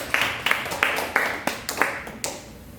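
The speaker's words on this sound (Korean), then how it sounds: "박수를 한번 위로와 격려의 박수 한번 드리겠습니다" A small church congregation gives a brief round of applause during a worship service, with about eight separated, moderately loud claps spaced irregularly across the moment.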